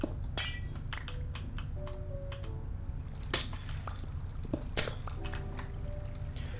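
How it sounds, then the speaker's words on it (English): Glass blocks shatter repeatedly in the Minecraft modpack Feed The Beast Infinity Evolved, sharp crisp breaking bursts scattered over a steady low game hum, with small tinkling clinks between them and no talking. "hearing that, like, glass breaking sound, it's probably not the sound you want to hear"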